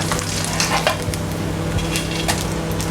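Hamburger patties sizzle steadily in a hot pan right after being flipped, a dense continuous crackle with occasional sharper pops, close and fairly loud with no talking.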